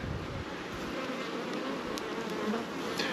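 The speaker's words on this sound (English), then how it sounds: "my little bee friends work really hard for us" Honey bees at a home hive, a dense, steady, close buzzing that stays loud throughout, with no talking.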